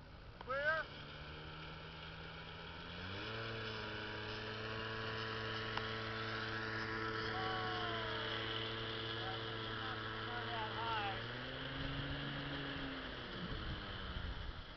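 Scooter engine towing a person during a tow demonstration, a steady droning motor whose pitch rises as the throttle opens and then holds a sustained tone before dropping away near the end, with faint distant voices.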